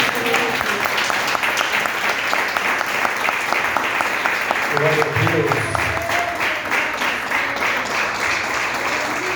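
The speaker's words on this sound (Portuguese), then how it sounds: "E as palmas louvam o Senhor." Sustained applause from a church congregation during a worship service, loud and steady throughout, with voices calling out over the clapping.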